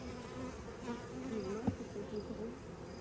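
Honeybees swarm and buzz over an open hive frame during an inspection, with the queen among them. A close, steady, droning hum runs throughout, and a brief sharper burst rises near the middle.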